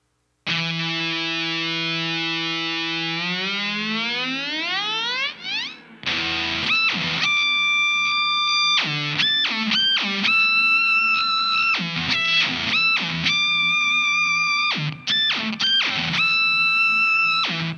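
Fuzz-distorted guitar through a Digitech MonoNeon Whammy pedal, first sweeping its pitch in a long glide, then choppy bursts of harmonically rich, buzzing notes bending up and down.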